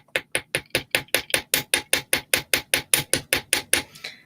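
Rapid, evenly spaced metallic taps ring out, around twenty sharp hammer strikes on a metal wire earring in a steady rhythm, close and bright.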